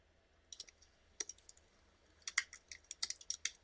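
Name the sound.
typing on a computer keyboard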